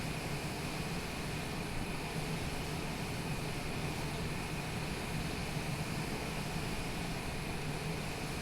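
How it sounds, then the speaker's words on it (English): Steady, unbroken engine roar from an airliner taking off in Microsoft Flight Simulator 2020, a dense constant drone that holds at an even level for several seconds with no talking. "I guess we better wait here for this one to take off."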